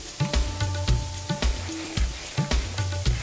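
Coconut milk sauce sizzles and fries in a pan with repeated stirring scrapes as a splash of tamarind liquid is added, close and steady without any talk.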